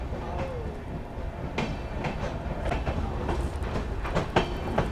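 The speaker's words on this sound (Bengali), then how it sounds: "আমাদের ট্রেন বেরিয়ে যাচ্ছে মধুপুর রেলওয়ে স্টেশন থেকে" The Patna Janshatabdi Express rolls steadily out of Madhupur station, wheels clattering in an irregular rhythm with a constant low rumble and occasional sharp clanks, no voices.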